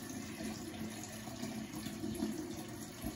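Tap water runs steadily into a pot, filling it with blanching water for cubed pumpkin before pressure canning; a continuous, close rush of flowing water with no talk.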